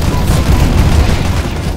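Dual Berettas firing in CS:GO, a rapid burst of loud, close gunshots packed densely together for under two seconds.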